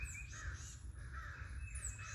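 Outdoors, a nearby crow gives a few hoarse caws in a loose rhythm, clear and moderately loud above a constant low background hum, with no voices.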